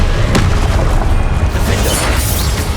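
Confringo spell explosion in Hogwarts Legacy, a loud booming blast with a crackling, sustained roar that fills the whole short moment at high volume.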